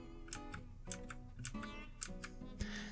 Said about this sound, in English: it's a very clicky keyboard.